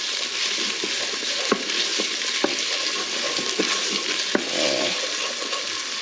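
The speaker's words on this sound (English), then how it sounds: "That just draws some of the liquid out of the onions and helps them sweat down faster. And a bit of a stir." Onions sweat in a hot salted pan while a utensil stirs them, making a steady close sizzle broken by sharp scraping clicks against the pan every second or so.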